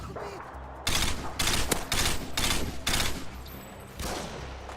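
Rapid bursts of automatic gunfire in Call of Duty: Modern Warfare II gameplay, several sharp volleys in quick succession with brief gaps between them, loud and close.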